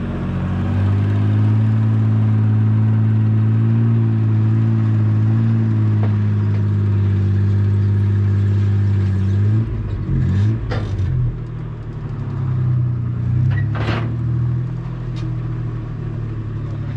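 A customer's car, just finished at a fab shop, rumbles loud and close with a steady engine drone, then revs in short bursts as it is driven up onto a trailer, with a few knocks and scrapes.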